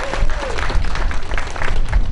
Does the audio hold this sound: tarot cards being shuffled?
no